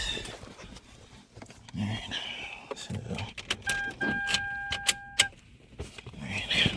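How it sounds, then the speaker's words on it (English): A 2011 Toyota Camry with stalling and lifter trouble is switched on: keys jangle, clicks and chimes sound from the dashboard, and a low rumble rises nearby. "turn the car on."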